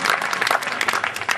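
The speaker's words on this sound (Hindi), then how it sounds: "ताली बजाइए," Audience applause at a Hindi poetry recitation, a dense burst of many hands clapping at close range, loud and continuous through the short stretch.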